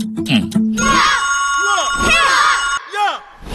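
A telephone rings with an incoming call in a Malayalam film scene, a steady electronic ringtone lasting a couple of seconds with voices calling out before, over and after it.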